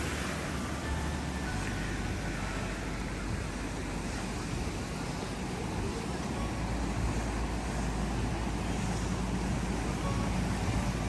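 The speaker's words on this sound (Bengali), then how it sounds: "ছোট্ট একটা খালের মতো পানি সবসময় আমাদের পাশ দিয়ে যাচ্ছে।" Water from Seven Falls in Colorado Springs runs in a small stream alongside a path, a constant broadband rush and gurgle heard close and steady throughout, with no talk.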